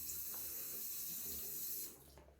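Water runs steadily from a tap into a sink during a wet shave with a straight razor and shaving brush, a continuous close hiss that drops off sharply near the end as the flow is shut.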